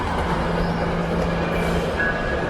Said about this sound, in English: It is rush hour, so the trains are running at very high frequencies now